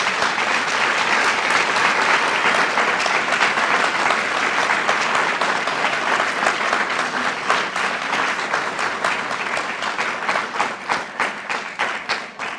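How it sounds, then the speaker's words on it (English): At a National Honor Society induction ceremony, the audience claps in sustained, dense applause for new members, holding steady for over ten seconds and thinning toward the end into more distinct individual claps. "Can we give them another round of applause?"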